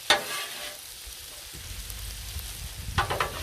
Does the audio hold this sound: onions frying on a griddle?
yes